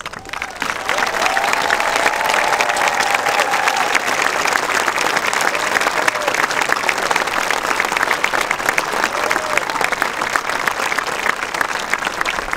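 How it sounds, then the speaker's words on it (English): A commencement audience applauds scholarship recipients at a 2018 high school graduation ceremony, with steady, dense clapping filling a large hall. The applause holds loud and even throughout. "I would like all the scholarship recipients to stand for a round of applause"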